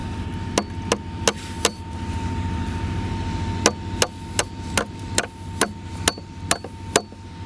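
Sharp metallic hammer strikes ring out one at a time, a quick run of four, a pause, then a steady series of evenly spaced blows.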